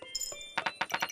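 Coins being collected in the Kingdom: New Lands video game chime and jingle in a quick burst of bright metallic clinks, several overlapping in rapid succession, close and clear with no talking.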